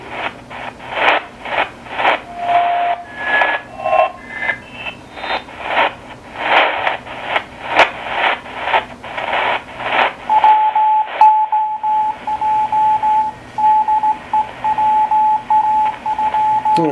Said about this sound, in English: we're going to stay in lower sideband and we're going to go to the CW portion of the 40 meter band